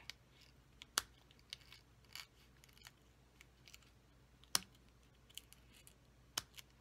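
Scissors trim card paper while a birthday card is made, giving faint, sparse snips and small clicks over quiet room tone with no talking.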